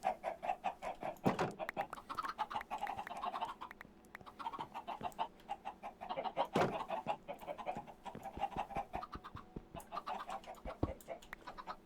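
Blocky Minecraft chickens cluck in scattered, overlapping bursts from several birds at fairly low volume, with sharper clucks poking out now and then.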